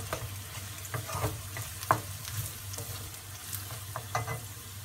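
Ground lentils stirred into onions frying in a pan for cabbage paruppu usili, a faint continuous sizzle under a low steady hum with scattered soft scraping stirs throughout.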